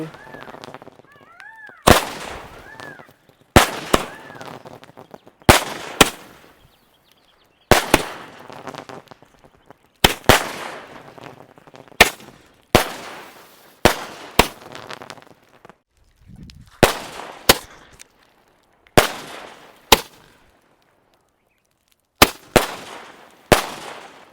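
Thirty-shot firecracker from a Diwali test going off as a run of loud, sharp bangs, about fourteen blasts at uneven intervals with brief crackling between them.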